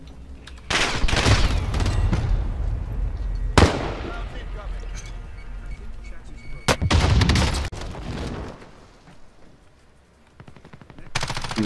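Gunfire in the video game Call of Duty Warzone: loud bursts of rapid automatic fire in several separate volleys, with voices talking over and between them.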